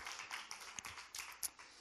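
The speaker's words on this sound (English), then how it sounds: "All right, you guys give a big round of applause for our preschool leaders." Church congregation applauding preschool leaders, a short burst of scattered hand claps and light taps, moderately close, with no talk over it.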